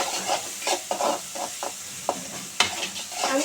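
Onions for a jackfruit seed curry with dried fish, frying in a pan and stirred with a spoon, rhythmic scraping strokes over a soft sizzle, close and clear, no talking.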